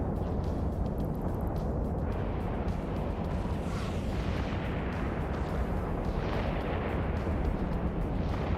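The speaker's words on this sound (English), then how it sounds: "Maybe I'm firing the wrong flavor of rockets." Rockets fire in a video game as a continuous, heavy roaring blast that fills the whole stretch, with dull booming bursts rising over the rumble.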